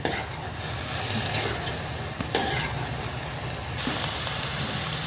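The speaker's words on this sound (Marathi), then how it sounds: "कांदा असा सोनेरी रंगावर येईपर्यंत आपल्याला सारखा हलवत राहायचं आहे" Chopped onion sizzles steadily in a pan while a spoon stirs it toward golden, in a home kitchen cooking whole masoor; a constant frying hiss with scraping strokes and a few sharper clacks, no voices.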